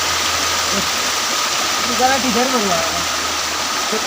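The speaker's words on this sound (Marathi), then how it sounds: "आणि पाऊस पण मित्रांनो जबरदस्त चालू झाले" Heavy rain pours in a steady, dense hiss in a forest, with a voice speaking briefly partway through.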